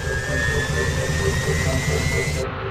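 Roaring jet engines of a 560-ton Super Jumbo airliner, a steady loud broadband rumble with a faint high whine held throughout, then cutting off abruptly near the end.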